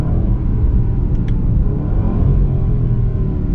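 A 2020 Range Rover Sport SVR engine accelerating with a deep, steady rumbling gurgle, loud and close, sustained throughout with no talking.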